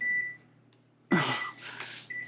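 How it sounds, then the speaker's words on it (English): A steady electronic tone sounds, cuts off, then returns briefly at the end after a loud burst of clattering noise in a quiet room. "we gotta figure out what that beeping is"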